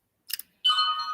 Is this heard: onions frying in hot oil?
no